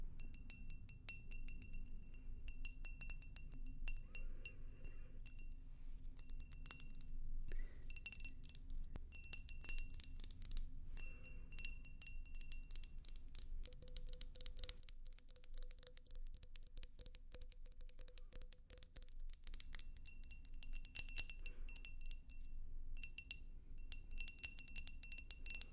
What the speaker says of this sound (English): We're going to be tapping on things for some tingles. All right, let's start out with some glass.